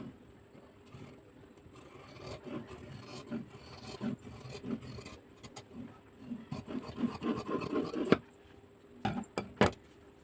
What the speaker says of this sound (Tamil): இந்த லைனில் தான் கட் பண்ணி நம்ம இந்த பீஸை கட் பண்ணி எடுக்கணும்.